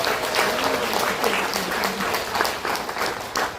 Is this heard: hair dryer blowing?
no